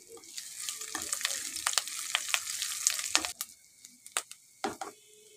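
Ginger garlic paste and curry leaves sizzle and fry in a pan with stirring scrapes, steady at first and then quieter with occasional clinks and stirs.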